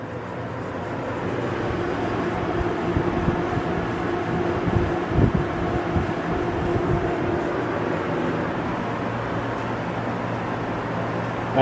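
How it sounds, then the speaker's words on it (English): Automotive A/C service machine running an air purge on an R-134a system, giving a steady loud mechanical drone with a rumbling, hissing wash that holds evenly throughout with no talking. "I guess it just does that air purge thing now and then."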